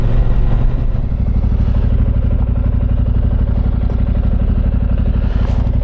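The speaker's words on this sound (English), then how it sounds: "That bike sounded great going past." A Yamaha T7 adventure motorcycle passes close by on a country road, its steady engine drone loud and continuous throughout, with a slight rise near the end as it goes by.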